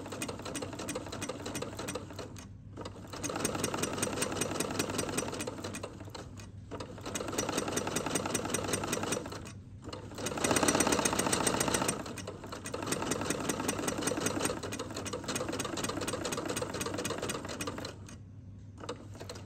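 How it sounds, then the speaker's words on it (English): A sewing machine stitches shirred fabric in several bursts of steady, rapid needle chatter, each a few seconds long with brief pauses between, close and fairly loud throughout. "Now I'm gonna hold it and start sewing."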